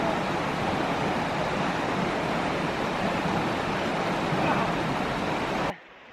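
Steady, loud rushing roar of a secluded waterfall in Iceland, broadband and unbroken for nearly six seconds before cutting off sharply at the end.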